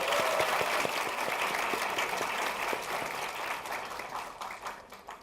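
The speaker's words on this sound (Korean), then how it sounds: "자, 박수로 환영." Dense applause from a university lecture-hall audience welcoming a guest at a special talk, loud and sustained, gradually thinning toward the end, with faint voices mixed in.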